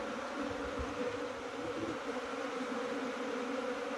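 Honey bees buzzing steadily inside an opened Langstroth beehive, a dense continuous hum close by with no talking.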